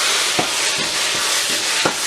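Minced meat frying in a pan with Kashmiri red chilli powder and other spices, a steady broadband sizzle throughout with a few soft stirring scrapes, close and moderately loud.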